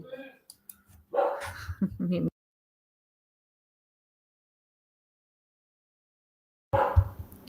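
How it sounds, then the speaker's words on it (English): Several loud dogs bark in a flurry at someone at the door, then silence, then another round of barking returns near the end, with a voice mixed in. "The dogs are going nuts."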